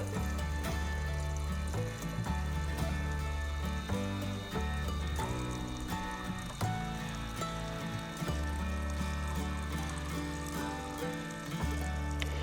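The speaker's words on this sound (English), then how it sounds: "So we're going to pour water into here, we're going to pour into the top" Water poured from a 9-litre watering can into a pipe set in a dug hole for a tree, a continuous gurgling flow with bubbling surges, quiet and unbroken.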